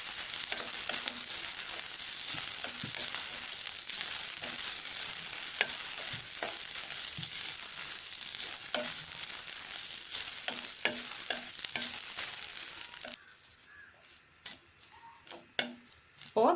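Grated coconut roasting in ghee for aval laddu, a steady close sizzle with rapid ticking scrapes of a spoon stirring, easing to quieter scattered taps near the end.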